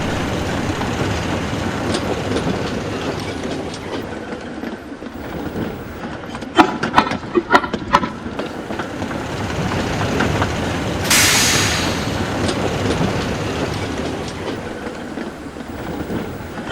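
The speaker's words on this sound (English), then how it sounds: "He shunted them into the middle of his train and started away with a friendly hoot." A train rolls steadily along the track with rumbling wheels and a brief cluster of rhythmic clacks, then a short hiss of brakes or steam.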